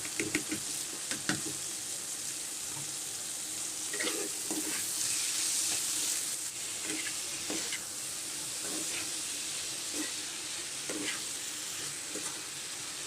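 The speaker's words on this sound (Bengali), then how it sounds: "যে পানিটা আছে সেটাই দিয়ে আমি এটা ভালো করে কষিয়ে ভাজা ভাজা করে নেব।" Khanman stalks sizzle in spiced masala in a pan, a steady hiss with soft scraping stirs at intervals throughout.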